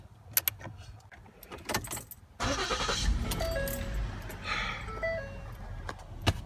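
A Ford Explorer engine is started after a passenger-side AC repair, a few clicks and jangles giving way to a steady idling rumble with faint chirping tones, close by and without talk.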